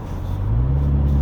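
A 2023 Mini Clubman JCW F54 engine hums steadily and rises slightly in pitch in Mid mode, with a low droning artificial sound effect layered over the engine noise.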